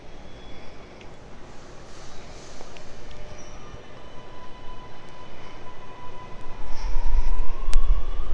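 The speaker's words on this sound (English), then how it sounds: "When the train arrived" A train rumbles into platform 2 at Castle Hill station and grows louder as it approaches, with a steady low roar and a faint high whine over it.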